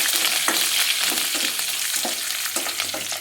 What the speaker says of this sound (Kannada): ನಾವು ಇಲ್ಲಿ ಕರ್ಬೇವಿನ ಸೊಪ್ಪನ್ನು ಹಾಕೋಣ.